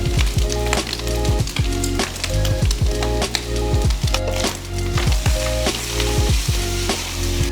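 Onion, spring onion, garlic and ginger caramelize in a hot pan for Zha Jiang knife-cut noodles, a steady loud sizzle with repeated stirring scrapes and a melodic background running underneath.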